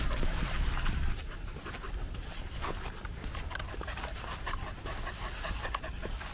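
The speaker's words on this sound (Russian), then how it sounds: "Гончие собачки." Hound dogs pant in quick, rapid breaths at close range, with light shuffling and pattering indoors and no voices.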